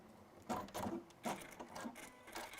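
A sewing machine stitches fabric in short, uneven bursts with brief pauses between runs, close by and fairly quiet.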